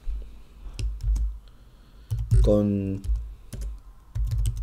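Keys clack on a computer keyboard in short bursts of several quick taps, close and crisp, with someone speaking Spanish between them.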